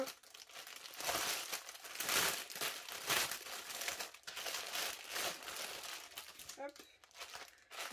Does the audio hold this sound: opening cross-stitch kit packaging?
yes